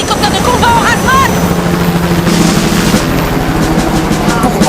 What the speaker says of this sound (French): Un hélicoptère de combat en rase-mode!